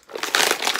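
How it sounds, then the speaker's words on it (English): Plastic packaging crinkles and crackles as small glasses accessories for a WWE Mattel Legends action figure are popped out of their blister tray, a brief, close, continuous rustle lasting under a second. "Pop these glasses out."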